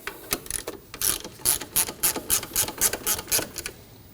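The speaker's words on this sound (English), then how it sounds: "To lock down the tensioner, we'll tighten down this bolt." Ratchet clicks in a quick, steady series as a tensioner bolt is tightened on a 2003-2006 Subaru Baja during alternator replacement, the sound close and clear with no talk.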